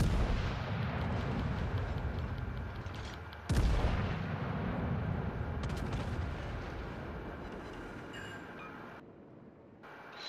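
Naval gunfire in World of Warships Legends, from a King George V battleship build firing high-explosive shells: one sharp heavy blast stands out over a constant rumbling battle din, with further booms fading toward the end.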